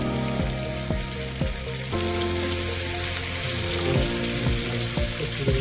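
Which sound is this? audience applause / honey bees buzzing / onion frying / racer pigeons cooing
onion frying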